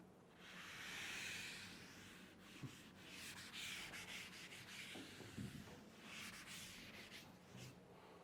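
Something being rubbed during an English grammar lecture, a steady broadband scraping and rubbing that runs the whole stretch at a quiet level with no talk over it.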